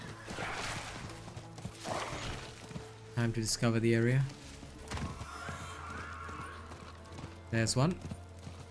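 A horse in the Diablo 4 game world gallops under steady clip-clop hoofbeats with two short, loud neighs breaking through, while someone talks over the action.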